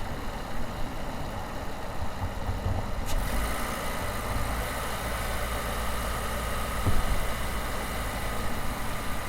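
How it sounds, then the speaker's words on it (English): A Toyota hybrid car engine hums and rumbles steadily, working harder under load as it runs, with a brief knock partway through and no talking. "suddenly now the engine is actually pushing against something, and we can hear that change"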